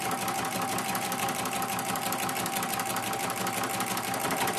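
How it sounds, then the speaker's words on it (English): Sewing machine stitching binding onto a placemat, a steady, continuous mechanical whir with fast rhythmic needle chatter, close and loud throughout with no talking. "sew all the way down."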